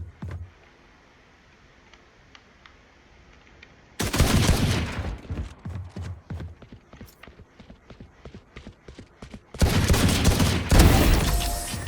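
Rapid bursts of gunfire in the video game VALORANT crack out loud and close, with dense, irregular shots after a quiet start and a heavier volley near the end.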